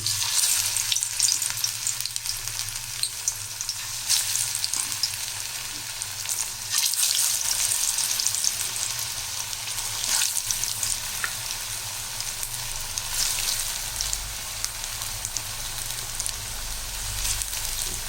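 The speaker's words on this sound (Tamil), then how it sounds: "இப்போ நம்ம ஒரு பேனில் எண்ணெய் ஊற்றி வச்சுட்டோம் நல்லா எண்ணெய் காஞ்சி போயிடுச்சு இப்போ இந்த வடையை நம்ம ஒன்று ஒன்றா போட்டுக்கலாம்" Taro root vadai fry in a pan of hot oil, a steady close bubbling sizzle that swells and settles across the whole stretch with faint stirring, no voices.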